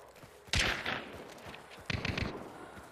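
A video game gunshot landing a headshot: two sharp, loud cracks about a second and a half apart, each followed by a brief ringing tail, with no voices.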